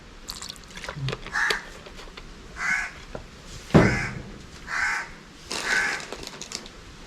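Outdoors beside a fish-fry preparation, a crow caws repeatedly, five harsh calls spaced about a second apart with faint clicks and a thud between them, moderately close and without talk.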